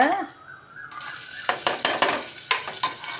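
Onions hit hot oil with a sudden, steady sizzle, while a utensil scrapes and taps the pan in a loose rhythm.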